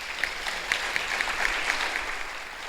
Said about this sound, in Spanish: Yo pido un aplauso para esas comunidades.